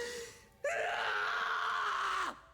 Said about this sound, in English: Anime scream.